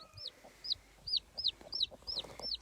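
A mother hen clucks near her chicks on a farm, a regular series of short, sharp clucks repeating about every quarter second, fairly faint with soft rustling between calls.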